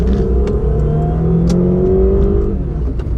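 A Toyota Camry with a V6 and automatic transmission accelerates at full throttle, its engine note climbing steadily in a loud, continuous rising roar with no gear-change breaks, heard alone without talk.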